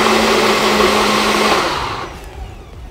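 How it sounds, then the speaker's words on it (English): A blender whirs loudly and steadily, pureeing healthy breakfast ingredients flavoured with vanilla essence, then winds down and fades over the last second, with no talking. "So let me blend all these things."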